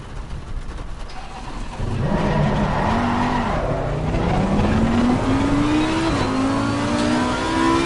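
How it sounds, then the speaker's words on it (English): Race car engine in the Assetto Corsa Competizione video game, loud and close as it climbs through the revs with sharp upshifts and a brief squeal of tires, building to full speed. "The noise of this car when you get up to speed as well"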